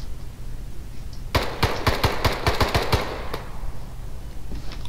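Machine gun fire in the video game Arma 3: a burst of about a dozen rapid shots over roughly two seconds, loud against steady background noise with no talk.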